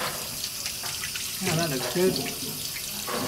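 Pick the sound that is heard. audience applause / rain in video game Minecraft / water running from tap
water running from tap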